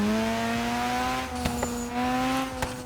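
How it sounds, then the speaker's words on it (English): A Mazda RX7 in Forza Horizon 3 hums along with a steady engine drone and turbo whine, holding a sustained note with brief sharp transients near the middle and end, close and fairly loud. "Has a very unique turbo sound to this thing."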